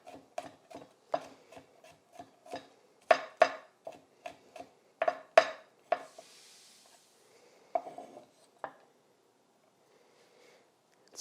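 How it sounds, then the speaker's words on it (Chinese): Garlic chopped into small bits with a cleaver on a board, a run of sharp, close knocks in an irregular rhythm that thins out into a few scattered taps and then quiet. "要剁成粒。"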